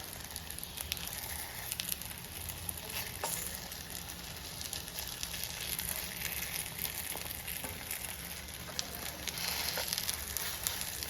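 Kerala style folder snacks fry in hot oil in a pan, giving a continuous dense sizzle and crackle with occasional sharper pops, close and steady throughout.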